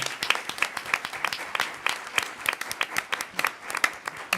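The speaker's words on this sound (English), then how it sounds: "Once again, we applaud you and congratulate you on your tenure." An audience at a Pelham Public Schools event applauds newly tenured teachers, with dense, steady clapping sustained for about four seconds at moderate distance.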